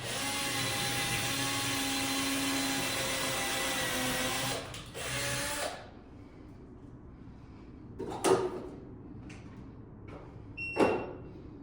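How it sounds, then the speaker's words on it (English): A power drill whines steadily for several seconds as it bores into a wooden beam, then stops; a few sharp knocks and clunks follow in the quieter stretch. "right now I'm gonna start drilling right into my beam"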